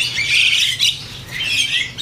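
Javan mynas (jalak kebo) offered for sale at a songbird dealer give harsh, squawky calls in two close bursts, fairly loud and near, with no speech.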